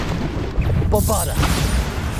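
A Bombarda explosion spell bursts in Hogwarts Legacy, a heavy booming blast with a dense rush of noise that cuts through busy combat sound.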